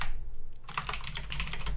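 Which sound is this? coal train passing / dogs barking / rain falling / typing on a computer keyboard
typing on a computer keyboard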